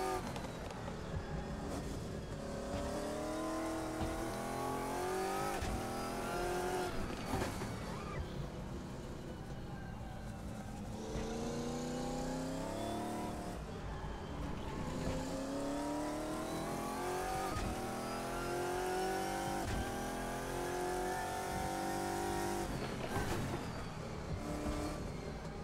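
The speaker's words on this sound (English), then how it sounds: "This car just keeps on locking up." A GT1 race car in the Assetto Corsa racing game at the Nürburgring, heard in continuous engine roar rising and falling through repeated shifts and braking, with faint tire squeal and no talk over it.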